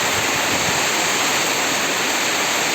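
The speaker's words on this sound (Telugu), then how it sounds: "కొనసాగుతున్న వాన భారీగా పడుతుంది చూడండి" Dense, steady rush of heavy cyclone rainfall, a continuous broadband roar with no pauses and no voices.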